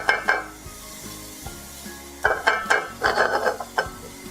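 Fennel and onion sautéing in a pan for a squid stuffing, a steady sizzle broken by loud scraping stirs and utensil knocks against the pan, close up with no talking.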